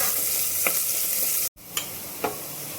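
Onion frying in hot oil for a mutton curry gives a steady loud sizzle, briefly cut off by a short break, with a couple of soft stirring scrapes, close and without talk.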